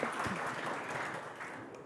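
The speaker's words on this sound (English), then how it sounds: "can we have a round of applause for Rahesha and Arun" A round of applause from the audience at a food awards ceremony, steady clapping that slowly fades over a short stretch with no talk.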